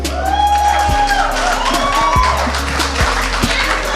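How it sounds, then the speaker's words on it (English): An audience at a live night event with Merqury Quaye claps and cheers, a dense crowd of applause with rising whoops and shouts over a low, pulsing backing beat. "Yo, come on, keep clapping, man."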